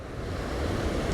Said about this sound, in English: there's a big huge wave coming now